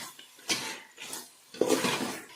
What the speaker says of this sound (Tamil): இப்போ நாம் இதுக்கு தண்ணி சேர்த்துக்கலாம்